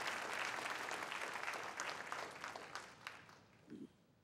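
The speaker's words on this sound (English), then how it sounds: "So again, another applause for Mayor Lee." Sustained audience applause for Mayor Lee at the National Small Business Week 2014 kick-off at Twitter headquarters, a dense steady clatter of many hands that gradually thins and fades near the end.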